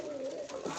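A pigeon in a loft, calling while getting ready to lay eggs, gives a single short, close coo.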